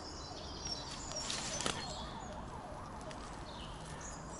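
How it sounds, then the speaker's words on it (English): Sirens wail faintly in the distance near Pegwell Bay, rising and falling over steady background noise, with no one speaking. "there's a lot of sirens in that"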